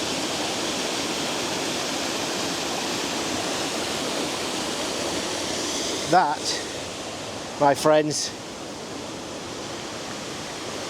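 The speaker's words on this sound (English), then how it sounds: "that is Halicki Waterfall" Halicki Waterfall in Yorkshire gives a loud, steady rush of falling water that fills the whole clip. Someone speaks briefly over the roar near the end.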